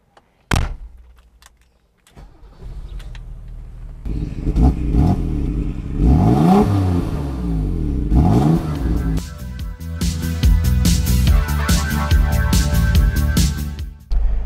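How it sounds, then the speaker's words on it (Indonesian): A 1986 BMW E24 M6 starts with a few door and cabin clunks, then its engine revs and pulls hard through rising gear sweeps, loud and close from inside the car. "Driving the E24 M6."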